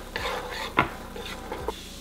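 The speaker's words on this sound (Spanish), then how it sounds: "Ya tengo aquí un sartén caliente, vamos a poner 2 cucharadas de mantequilla. Vamos a agregar la cebolla." Chopped onion cooking in two spoonfuls of butter in a hot frying pan, a soft crackling sizzle broken by a few sharp scrapes and taps of a utensil against the pan.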